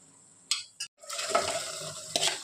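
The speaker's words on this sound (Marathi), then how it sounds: "आणि त्याला छान मिक्स करून घ्या" A spoon stirs saloi in a cooking pot with a few scraping clinks, then a soft sizzling swirl as the mixture is worked around.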